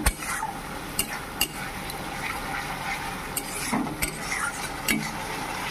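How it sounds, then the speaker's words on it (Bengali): A spice paste is stir-fried in oil in a pan until the oil separates, with a low sizzle under repeated sharp scrapes and clinks of a spatula against the pan, close and fairly loud. "এখানে মশলাটা কষানো হচ্ছে"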